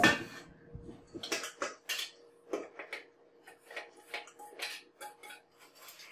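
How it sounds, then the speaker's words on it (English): Flour is whisked through a metal strainer, giving irregular bursts of close, dry metallic scraping and light tapping with short pauses between strokes; no one talks. "I'm just going to whisk these through the strainer here"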